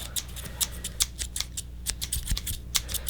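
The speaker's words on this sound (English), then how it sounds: "Well, I've got my craft scissors." Children's craft scissors with blunt blades are opened and closed close up in a quiet ASMR setting, giving about a dozen crisp, irregular snipping clicks with no talk.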